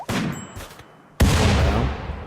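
Gunfire in RimWorld Alpha 16 lands a headshot. A short crack at the start is followed by a louder, sharp report about a second later that rings and decays with a metallic tail.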